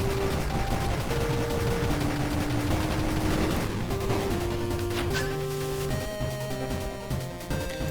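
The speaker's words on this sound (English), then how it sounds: "So right now I have Solaris. Oh right. It's a big laser." Solaris, a big laser weapon in the shooter Star of Providence, firing nonstop as a dense, loud crackling barrage over a pulsing game soundtrack.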